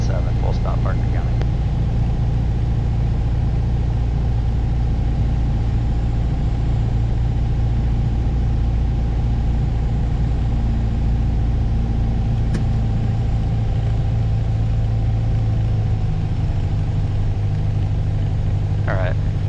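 Piper Warrior light aircraft engine on final approach to landing at Parker County, a steady droning hum running throughout, with radio voice talk over it.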